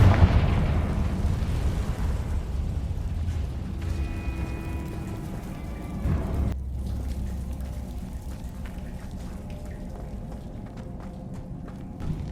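A Confringo spell explosion in the Hogwarts Legacy video game bursts loudly at the start, followed by a long fading rumble with softer crackles and a brief mechanical tone.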